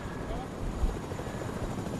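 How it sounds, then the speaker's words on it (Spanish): A helicopter in the Fortnite video game gives off a steady, loud rotor drone close by that never lets up. "hay un helicóptero y le voy a caer en el helicóptero"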